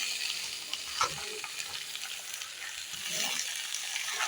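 Chopped cabbage stirred into garlic and onion frying in a pan, giving a steady close sizzle with soft scraping stirs throughout and a brief louder clatter near the start.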